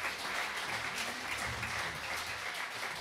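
An audience at a CD launch concert applauds in a dense, continuous wash of clapping that holds steady throughout, heard from within the crowd without talk.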